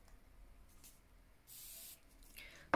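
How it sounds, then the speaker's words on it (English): A single short hiss of setting spray onto a makeup brush, about half a second long, amid an otherwise quiet background. "So I've just sprayed the brush."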